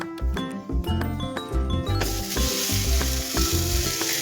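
Thalipeeth sizzles loudly on a hot pan, with a bright, continuous crackling frying hiss and a few light clinks, and steady music-like tones running underneath.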